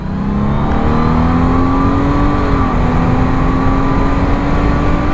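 A 2019 Honda Goldwing DCT motorcycle in sport mode pulls hard on a highway, its steady engine drone climbing in pitch with a brief dip at a gear change, loud and continuous with wind rush throughout.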